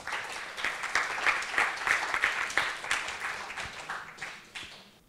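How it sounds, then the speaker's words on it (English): An audience at a myeloma patient forum gives a speaker a round of applause, dense, moderately loud clapping from many hands that carries on for several seconds and gradually thins out. "Can we give her a round of applause"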